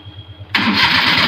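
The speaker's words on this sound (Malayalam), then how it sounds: "നമുക്ക് വണ്ടി ഒന്ന് സ്റ്റാർട്ട് ചെയ്ത് നോക്കാം" A Maruti Suzuki Omni van with its silencer detached cranks briefly with a rhythmic starter whir, then the engine catches and settles into a loud, raw, unmuffled roar.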